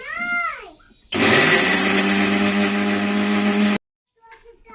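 A kitchen mixer grinds ginger and garlic with a little water into paste, a loud, steady whirring drone that starts abruptly, runs about three seconds and cuts off sharply; a voice is heard before it starts and again after it stops.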